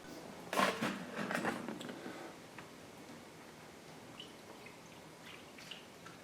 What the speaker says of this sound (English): we're going to put degreaser into the case until you get to the fill line